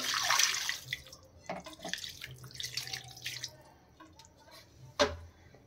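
Water poured into a pan of Katla fish curry coated in spices, a loud splashing pour at first, then softer trickling and drips and a final knock, close by with no talking.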